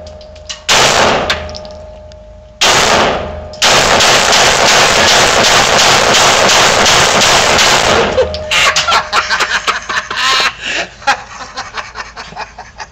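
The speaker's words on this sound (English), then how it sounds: "Christy is shooting the 9mm." Rapid shots from a 9mm Ruger pistol ring out in loud bursts with metallic clangs, first two single blasts, then a long sustained volley, followed by a ragged string of quicker cracks fading in level.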